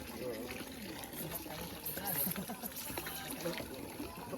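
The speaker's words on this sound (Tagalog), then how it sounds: "Ito, flowing water, no?" Water flows and trickles steadily, with faint voices murmuring in the background.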